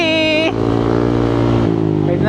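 A Honda PCX160 scooter runs steadily close by in the Carranglan, Nueva Ecija area, its motor drone continuous beneath a short burst of higher tonal sound at the start.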